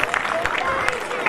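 An outdoor Ramlila audience applauds, a continuous patter of many hands clapping at moderate distance with a voice faintly audible over it.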